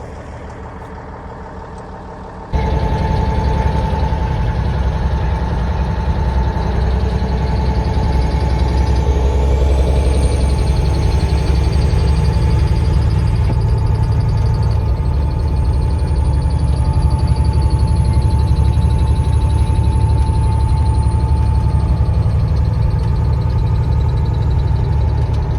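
A semi truck loaded with hay bales and strapped down for the road runs at a steady idle nearby, a continuous low engine rumble with a faint whine and no talk.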